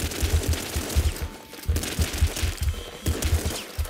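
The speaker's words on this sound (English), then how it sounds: "Just been shooting like crazy." Rapid gunfire from the top-down shooter Nuclear Throne, a dense fusillade of loud, repeated shots firing almost continuously with only brief pauses, close and dominant throughout.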